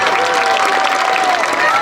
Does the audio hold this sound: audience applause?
yes